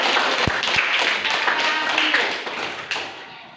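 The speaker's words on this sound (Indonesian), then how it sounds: "Tepuk tangan untuk" Classroom of pupils clapping hands during a lesson on levers, a brief burst of crisp claps with a few sharper taps up front, fading toward the end.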